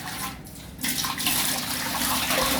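Hot water being poured while making an Arabian milk sweet at home, a steady close splashing flow that briefly thins early on, then runs fuller and continuous with no voices.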